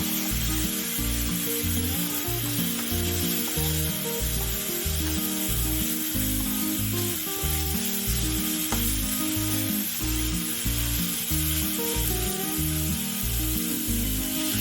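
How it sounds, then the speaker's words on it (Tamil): Ginger garlic paste sautéing with softened onions in a pan for mushroom kulambu gives a continuous close sizzle, broken by regular scraping strokes of a spoon stirring it, with no voices. "இஞ்சி பூண்டு விழுது போடுங்க. அதுவும் பச்சை வாடை போகிற அளவுக்கு வதக்கிக்கோங்க."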